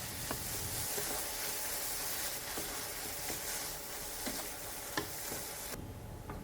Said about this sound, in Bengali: এবার আমি এতে দিয়ে দিচ্ছি সেই পেঁয়াজকলি বাটা। সব একসাথে ভেজে নিচ্ছি।